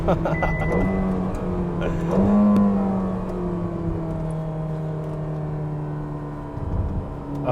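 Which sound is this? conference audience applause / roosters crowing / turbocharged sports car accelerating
turbocharged sports car accelerating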